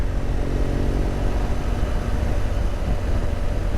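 A motorcycle engine drones steadily nearby on a wet road at the Grossglockner High Alpine Road, a constant rough rumble without clear approach or fade, and no voices.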